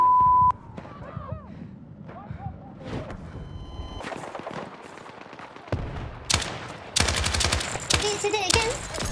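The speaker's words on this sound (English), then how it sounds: "This weapon is an LMG." An LMG in the video game Battlefield 6 fires in sharp, loud bursts late in the sequence, with scattered quieter in-game clatter and tones beforehand.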